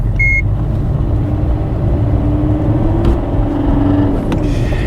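A Fiat Panda running at speed on a motorway, with a steady engine drone and road rumble that carries a faint rising tone, heard from inside the car with no talk.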